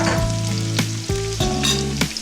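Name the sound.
garlic and meat sautéing in pan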